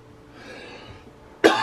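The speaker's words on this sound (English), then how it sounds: "I've got a cough." A single sharp, loud cough bursts out near the end after a stretch of quiet room tone, close to the microphone.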